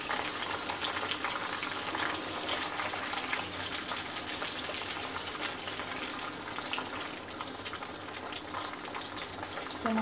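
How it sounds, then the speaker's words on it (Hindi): Chicken wings frying in oil over a medium flame, a continuous dense crackling sizzle heard up close at even loudness throughout, with no voices. "अब जो बाकी बच गए उनको भी फ्राई कर लूंगी इसी तरह मीडियम फ्लेम पे"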